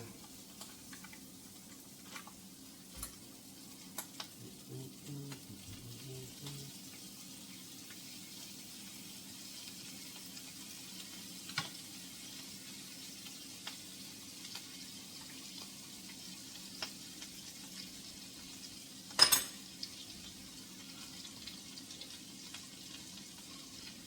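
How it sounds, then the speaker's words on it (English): Soft, steady sizzling of crab cakes frying in butter, a low crackling hiss with occasional sharp clicks and a louder clatter near the end, no talking. "All right, we got this sizzling up nice and good."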